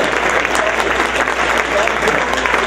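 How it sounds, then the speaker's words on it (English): Loud, dense applause from an awards gala audience at a festival, a continuous roar of clapping with faint crowd voices underneath. "give yourselves a huge round of applause for what you're doing"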